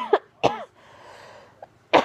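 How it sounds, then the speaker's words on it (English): A person coughs three times, close to the microphone: two harsh bursts in quick succession, a pause, then a final cough. There is no speech. "It's making me cough."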